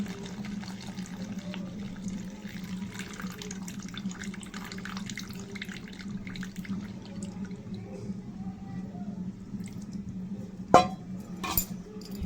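Sour tamarind water is poured into a clay pot of country chicken, a faint steady trickle over a low hum, with a couple of sharp clicks near the end.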